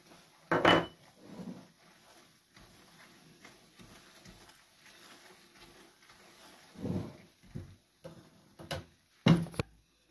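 Fennel seeds and flax seeds tipped one lot at a time into a pan of roasted semolina for panjiri, giving a few sharp clinks and rattles of the pan, with quiet rustling and scraping between the louder knocks.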